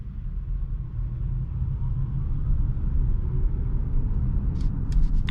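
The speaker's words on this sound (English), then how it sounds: "You can hear the engines of other cars." Low, steady road rumble of other cars' engines passing nearby, heard from inside a 2021 Mercedes EQA 250 on a test drive, a continuous drone from start to finish.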